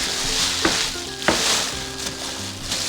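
A homemade play-dough mixture being stirred gives a wet, squelchy rustle with a few sharper slaps as the mix is worked, steady and close with no one talking.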